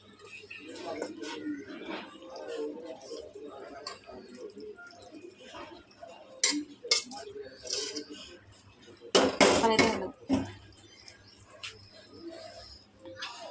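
A cooking pot of pasta lifted off the stove: metallic clanks and clattering of the pot and lid, loudest in a short burst, with a person talking throughout.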